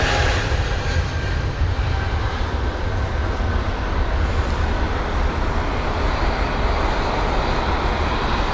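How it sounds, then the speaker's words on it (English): Airbus A320neo taking off from Heathrow, bound for Manchester, its engines producing a loud, steady jet roar that holds throughout with no pause. "the A320 Neo heading to Manchester. Off it goes with a nice quick rotation"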